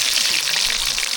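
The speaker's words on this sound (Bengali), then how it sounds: "এই আলু চলে গেল তেলের ভিতরে আমাদের" Potatoes just dropped into hot oil in a kadai, a brief loud hiss and crackle of frying, close and continuous.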